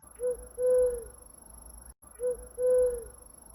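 A man imitates a great horned owl's hoot out among dark pine trees in the night. The call is a short hoot followed by a longer one, repeated twice and close, with quiet pauses between.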